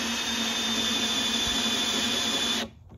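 A power drill whines steadily at high speed while enlarging holes in pallet boards, close and loud, then abruptly stops near the end.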